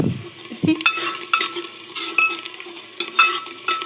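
Ash gourd (petha) sabzi sizzles and fries in a pan while a utensil stirs and scrapes it in repeated bursts, close up and moderately loud, with no talking.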